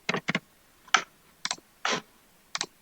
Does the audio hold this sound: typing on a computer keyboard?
yes